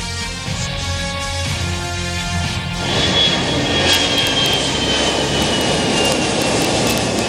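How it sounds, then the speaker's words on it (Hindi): Sukhoi fighter jets landing on the Agra-Lucknow Expressway in Uttar Pradesh at its opening, a loud jet engine roar that swells into a harsh broadband rush with a high whine, near and continuous. "एक्सप्रेस वे पर उतरा सुखोई।"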